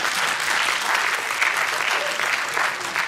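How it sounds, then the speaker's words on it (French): Comedy club audience applauding during a stand-up set, a brief burst of dense, loud, even clapping filling the whole moment. "On peut l'applaudir quand même"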